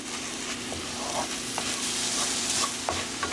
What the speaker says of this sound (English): I like to kind of scrape up the goodies on the bottom of the pan